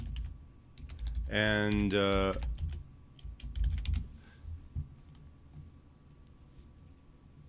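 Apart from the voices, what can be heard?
typing a quiz question on a computer keyboard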